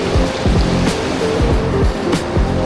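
Steady rushing water where a mountain stream meets the sea at Gen. Nakar, a continuous close broadband wash with some low tonal background noise and no talking.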